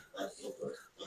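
Pigs grunt in a pig barn with three short, rounded bursts of snorting close by, separated by brief pauses.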